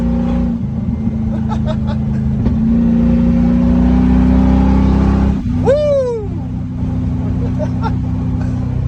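A 1989 Range Rover Classic engine with a modified exhaust drones loudly at steady revs and then blips sharply with a rising, falling rev before settling back to a loud idle, while a person whoops over it.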